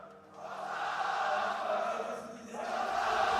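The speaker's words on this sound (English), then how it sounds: "we have a full arena waiting for that exact same question. Just listen to them." Full esports arena crowd at a League of Legends EMEA Masters final, a steady broad roar of cheering that dips briefly, then swells back up, heard alone without talk.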